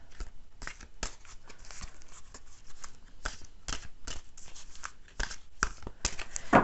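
Law of Attraction oracle cards being shuffled by hand, a steady run of brisk papery riffles and slaps that repeat for several seconds, close and fairly quiet, with no talking.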